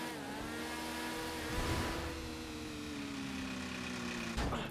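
A Tron motorcycle in GTA 5 revving up for a jump over trucks, a rising, whining engine tone with layered harmonics that climbs steadily, a brief surge midway, and a sharp jolt at the end.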